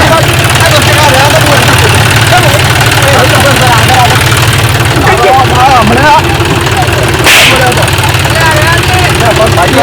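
A tractor engine idles close and loud with a steady low rumbling throb that runs throughout, while several people talk over it.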